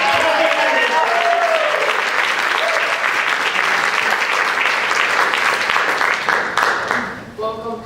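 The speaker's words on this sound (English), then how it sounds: "keep those applause going for our next comedian, a very funny lady, Duggan," Comedy club audience at Gotham Comedy Club applauding and cheering a comedian onto the stage, dense and loud throughout, with whoops, then tapering off near the end.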